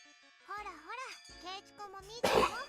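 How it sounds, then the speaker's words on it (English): A school bell chime from the Higurashi visual novel rings as a few clear, bright tones with a jingling, tinkling quality, followed by a brief louder burst. "The toll of the bell signaled that break time was over."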